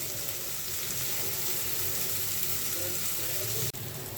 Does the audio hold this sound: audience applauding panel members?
no